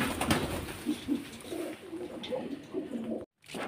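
A pigeon coos in a series of low, soft, repeated calls close by, with a faint background hiss and no talking.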